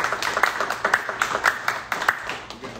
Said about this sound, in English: Can we clap it up for Dr.